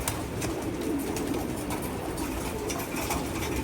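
Soft pigeon coos blend into a steady, busy bed of ambient noise, with a faint continuous hiss throughout and no one talking.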